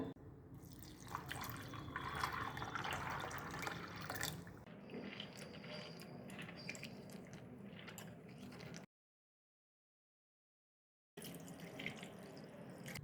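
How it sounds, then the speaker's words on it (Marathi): Water sloshes and splashes steadily as almonds are rinsed by hand, followed by a brief silence, then more swishing water. "हे एकदा पाण्याने स्वच्छ धुवून घ्यायचे आहेत आपल्याला"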